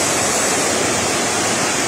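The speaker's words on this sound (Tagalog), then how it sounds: "Guys, ang lakas ng tubig dyan, oh. Pumaragasa yung tubig, oh." Floodwater rushes past in a strong current, a loud, dense, unbroken roar of churning water heard close and without any voices.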